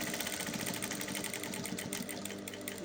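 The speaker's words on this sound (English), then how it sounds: "I'm going to be making a back stitching, sewing and back stitching until I ensure that my stitches are strong enough" Sewing machine stitching elastic on a reversible hair bonnet, a soft continuous motor whir with fast rhythmic needle chatter throughout.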